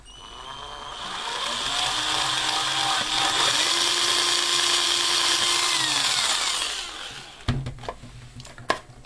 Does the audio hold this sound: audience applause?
no